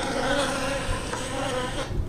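Honey bees buzzing at a light hive low on food, a continuous droning hum with no break, fairly quiet and close.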